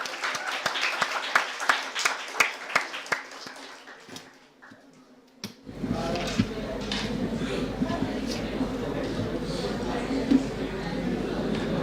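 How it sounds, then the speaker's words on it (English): Audience applause for two guests at a university marketing challenge event. It starts as sparse, spaced claps, pauses briefly, then swells into a dense, sustained round of clapping from the seated crowd. "A huge round of applause for both of the guests."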